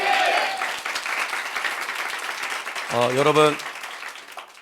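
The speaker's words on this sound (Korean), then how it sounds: "그 하나님을 믿으시는 우리 하나님께 박수로 먼저 한번 영광 돌리겠습니다." A church congregation applauds during a Sunday morning service, a dense wash of clapping that fades near the end while a preacher's voice speaks over it.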